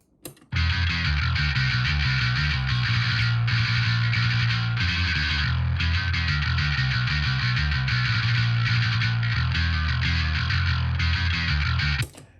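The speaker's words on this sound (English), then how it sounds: "Bass sounds like this." A thick, growling distorted bass guitar plays a sustained riff with a fuzzy, buzzing edge, starting abruptly and cutting off at the end.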